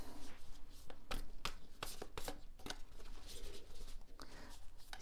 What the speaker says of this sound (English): Cards are a little bit big to shuffle